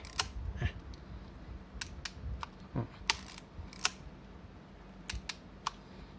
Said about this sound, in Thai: กดถ่ายแล้วก็ดันอีกทีหนึ่ง ให้ตัวปุ่มตรงนี้มันดีดลงมานะครับ แล้วก็กดถ่าย